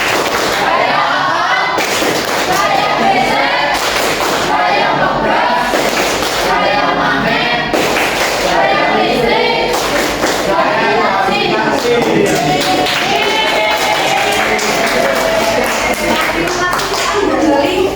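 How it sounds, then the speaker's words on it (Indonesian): A classroom of students clapping their hands in various styles, a steady run of overlapping claps and taps with irregular bursts, heard over ongoing chatter and voices. "Mari kita coba tepuk macam-macam gaya"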